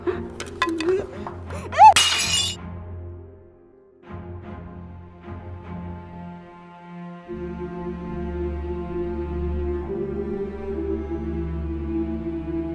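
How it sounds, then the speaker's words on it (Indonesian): A plate thrown in a house during a tense domestic drama shatters in one sharp, bright crash near the start, then gives way to a quieter tonal background. "Tadi piringnya kelempar"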